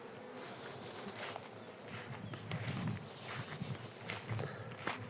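Faint, steady buzzing of bees in the open air near an apiary and flowering roses, with a few brief louder passes close by.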